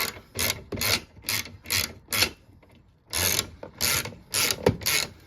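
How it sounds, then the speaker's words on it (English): A 10 mm bolt on the fuel filler door of a 1993 Cadillac Fleetwood Brougham is loosened with a ratchet, loud close clicking strokes in two bursts separated by a short pause, with no talking. "We'll loosen up that bolt over here."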